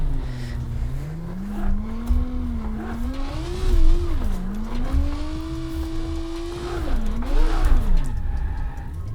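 A drift car in BeamNG Drive, engine revving and wailing up and down in pitch with tire squeal and skidding as it slides, loud and continuous, with no talking.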